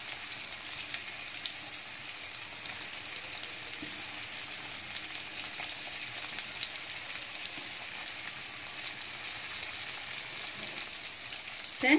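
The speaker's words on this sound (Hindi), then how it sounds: "इसको मीडियम फ्लेम पर गोल्डन ब्राउन होने तक भून लेंगे।" Marinated paneer frying on medium flame in a hot kadai for dhaba-style kadai paneer gives a steady, even sizzle throughout, moderately loud and continuous with no talking.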